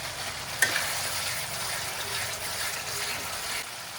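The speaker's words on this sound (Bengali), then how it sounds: "মশলাটা ভালো করে কষা হয়ে এসছে, লাল লাল হয়ে গেছে। এবার আমি 3টে কাঁচা লঙ্কা চিড়ে ওর মধ্যে দিয়ে দিলাম।" Red-cooked spice paste with three slit green chillies fries in oil for a Bengali sating fish tel jhal, a steady close sizzle with one sharp pop near the start.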